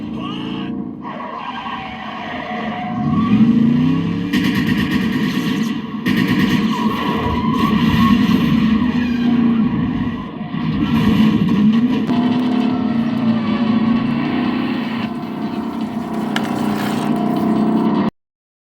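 A homemade slot car modeled on a '49 Mercury whining around a track, its small motor rising and falling as it laps, fairly close, with a person talking intermittently over it.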